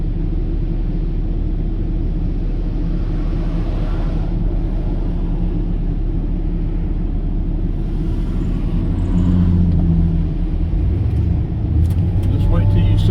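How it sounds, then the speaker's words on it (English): Constant low rumble of road traffic on a Georgia highway, heard from inside a moving car, a loud steady drone with tire and engine noise that swells slightly near the end. "Traffic."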